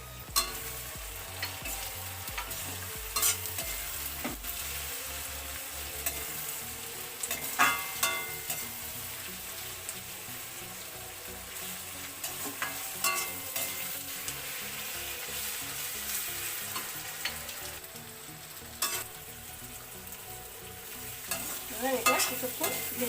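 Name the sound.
ginger, garlic and chilli paste frying and stirring in pan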